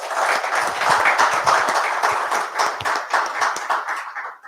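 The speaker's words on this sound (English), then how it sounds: "please a round of applause for the panelists" An audience applauds panelists at a finance conversation event in Bangalore, loud close clapping from a room of people, sustained for several seconds before tapering off at the end.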